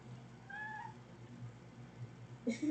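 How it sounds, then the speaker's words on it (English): A cat meows right up against the microphone: one clear meow early on, then a second louder burst at the very end, with a faint low hum between. "she meowed right up in the mic"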